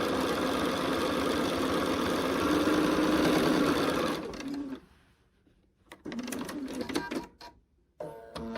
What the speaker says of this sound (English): now I've sewn the 3 of them together